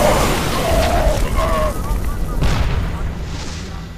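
Tank cannon fire and explosions in the real-time strategy game StarCraft, a rumbling series of booms and blasts running under steady game sound for the whole stretch, with a spoken voice mixed in.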